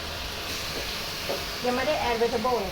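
Dried shrimp hit a hot pan for pad thai, giving a steady, close sizzling hiss throughout that thickens toward the end, with a voice briefly audible over it.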